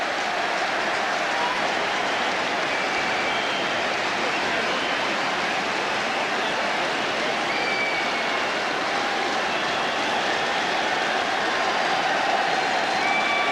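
Roaring crowd at a packed cricket stadium during a tense 1996 World Cup quarter-final between West Indies and South Africa, a steady, dense wall of noise that never lets up.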